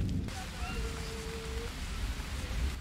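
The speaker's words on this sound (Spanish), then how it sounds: "Va a llover. Va a caer una que flipas." Steady rain hisses in the survival game Green Hell, a constant wash of noise with faint bird-like tones over it.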